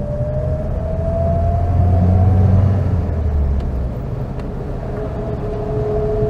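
The engine of a 1951 Citroën Traction Avant 11 Normale hums in top gear, a steady low rumble with a thin whine riding above it as the car ambles along the road.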